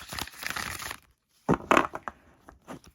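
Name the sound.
riffle shuffling Golden Girls tarot cards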